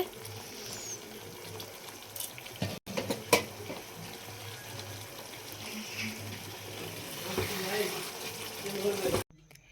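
Water used to rinse spices pours into a pan of simmering doi potol curry, a continuous splashing gush with a few clanks of a utensil, under faint background sounds.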